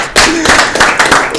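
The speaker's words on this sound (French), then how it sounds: "Est-ce qu'on peut applaudir?" A short burst of clapping from a television studio audience runs loud and close, with talk over it.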